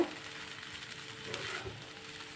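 Sabakki upma fries gently in a pan over a low flame, giving a faint, steady soft sizzle with a slight swell midway and no voices.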